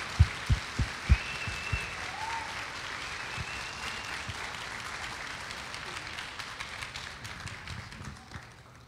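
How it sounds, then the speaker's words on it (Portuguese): Church congregation applauding to welcome a pastor at a thanksgiving service, opening with a few loud close claps before a softer, even round of clapping that tapers off. "a receber o pastor Aloysio com uma salva de palmas"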